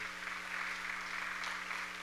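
Steady applause from the audience at a literature award ceremony, an even, moderate wash of clapping that holds without a break, with a low hum underneath.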